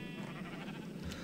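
Sheep bleat steadily in a farming video game, a dense flock close by with overlapping calls running the whole brief moment at an even level.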